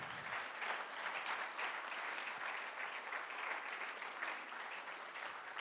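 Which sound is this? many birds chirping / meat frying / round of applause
round of applause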